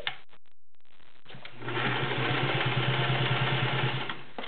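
A Singer 500A Rocketeer slant-o-matic sewing machine stitches through ten layers of cotton with a size 16 needle, a steady close rapid motor whir with fast rhythmic needle chatter after a few quiet clicks at the start.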